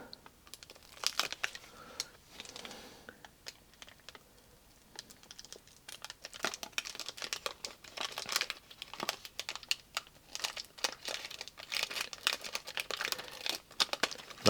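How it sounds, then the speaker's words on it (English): Scissors snipping through model aircraft covering film on a balsa scratch-built Gnat jet, crisp crinkly cuts and rustles in irregular bursts, close and fairly quiet. "let's use the scissors to sort of cut these initial bits off"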